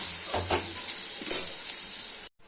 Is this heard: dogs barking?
no